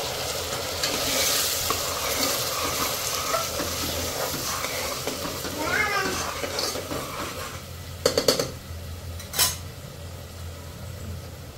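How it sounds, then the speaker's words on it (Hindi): Onion, tomato and ginger-garlic puree sizzles in a little oil in a pan while being stirred, a steady frying hiss with occasional clinks of a spoon or spatula against the pan toward the end. "आता आपण कांदा, टोमॅटो आणि अद्रक लसूणची जी प्युरी आहे ती टाकून घेतली."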